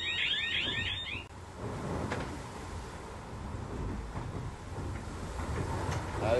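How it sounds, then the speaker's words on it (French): A heel alarm on a racing sailboat in the Route du Rhum gives a short burst of rapid high electronic beeps, then stops, leaving a rushing backdrop of wind and waves. "Le bruit c'est l'alarme de gîte"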